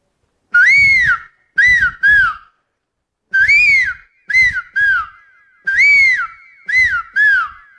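Loud human whistling mimics a serpent eagle's call in three bursts, each a long shrill note followed by two or three shorter descending whistles, with pauses between.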